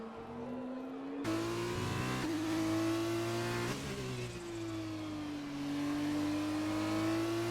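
A Formula 2 race car spins out on a circuit in Spain, its engine droning steadily at high revs with the pitch sagging and climbing, a brief tyre scrub audible near the start.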